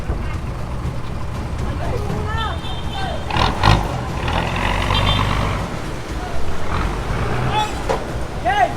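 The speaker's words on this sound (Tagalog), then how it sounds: "Mixer truck." A large concrete mixer truck rumbles on a busy street, its low engine drone steady with traffic around it and a brief air-brake hiss, while people talk nearby.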